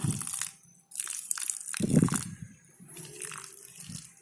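An aglaonema plant in its potting medium is watered, with gurgling pours and crackling, crunchy trickles through the mix in a few separate bursts and short pauses between them.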